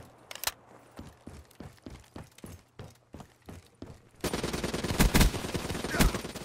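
An ICR rifle fires in a video game: a run of evenly spaced single shots at a quick, steady rhythm, then a louder, denser stretch of overlapping gunfire and impacts near the end.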